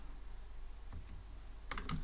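A handful of keystrokes on a computer keyboard, a couple of isolated clicks followed by a short quick burst, faint against a low hum with no speech.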